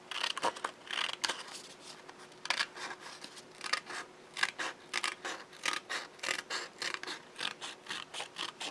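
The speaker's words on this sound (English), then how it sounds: "Going to trim this white that's showing on the side off." Scissors snip white paper trim from the edge of a handmade motion card, giving a run of crisp, close metallic cuts in an irregular rhythm with short pauses, no voices.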